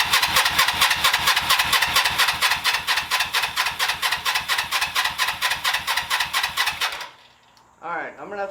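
A 1982 Suzuki GS300L motorcycle with a stuck choke after a carburetor cleaning cranks on its starter in a steady, rapid, loud rhythm for about seven seconds without catching, then falls quiet as a voice speaks briefly.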